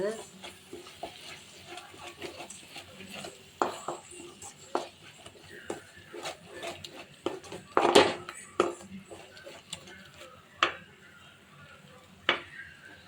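Ground chili paste being stirred into puliche keerai (sorrel greens) in a cooking pan for thokku, with scattered close scrapes and clinks of a spoon against the pan while a person talks throughout.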